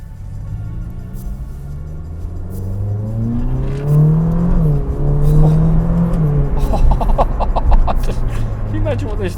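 A Ferrari 458 Speciale engine revs up and down through gear changes, a loud close rising and falling drone with quick shifts, while a voice talks over it.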